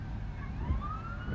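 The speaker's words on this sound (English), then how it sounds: "So you can hear the emergency sirens going off." Emergency warning sirens wail during a tornado outbreak near Union City, Michigan: a steady, rising siren tone carries from a distance over low rumbling wind or background noise, with no talking.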